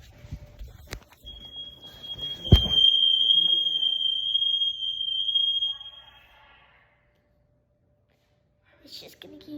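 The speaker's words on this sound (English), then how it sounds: "Make sure you get every fire alarm on camera." A fire alarm emits a steady, piercing high tone that holds for several seconds over background noise and a voice, then cuts off into near silence.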